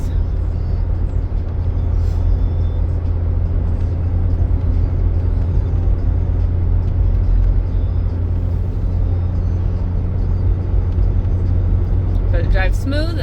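A 2006 Chevy HHR with a freshly repaired wheel bearing drives along a road, giving a constant loud low engine and road rumble with no rhythmic whine, and a brief ticking near the end.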